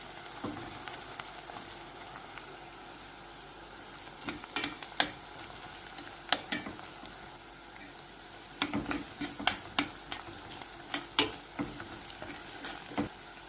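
Onions and a spoonful of tomato paste sauté in oil in a pan, a quiet close sizzle under repeated sharp clicks and scrapes of a spoon against the pan, with no talking.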